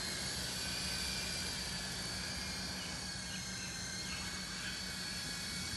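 Small Syma S32 2.4G radio-controlled helicopter flying outdoors on a calm day, giving a steady high-pitched whirring buzz that stays constant and fairly faint throughout, with no talking.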